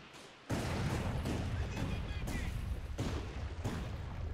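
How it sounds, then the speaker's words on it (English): Land Mattress rocket artillery barrage landing in Company of Heroes 2, a rapid series of heavy booming impacts, roughly six big hits in quick succession, loud and close, with a voice talking over them. "As the rockets landing all over the place."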